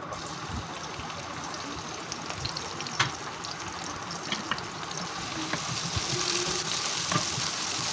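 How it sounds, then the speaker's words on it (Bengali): Chopped onion sizzling steadily in hot white oil in a pan for a bottle gourd and chickpea fry, a dense close hiss that grows slightly louder toward the end. "তেলটা একটু গরম হয়ে আসলে আমি এবার দিয়ে দিব কিছুটা পেঁয়াজ কুচি"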